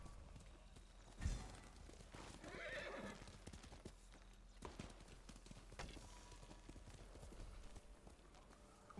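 A horse whinnies and its hooves clip-clop in the video game Ghost of Tsushima, a loud neigh rising early and then hoofbeats and movement continuing at close range with faint game ambience.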